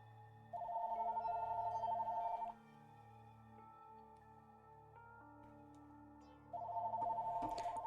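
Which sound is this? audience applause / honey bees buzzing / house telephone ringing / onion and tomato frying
house telephone ringing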